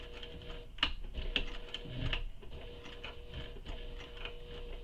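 A sewing machine stitches slowly toward bulky layers on a Kayla Commuter Tote, giving close, uneven ticking and clicking with intermittent needle strikes rather than a smooth run.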